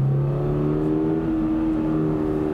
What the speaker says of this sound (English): First hot lap in the 2022 Toyota GR86. We're in track mode. And you hear it, this thing has a really nice noise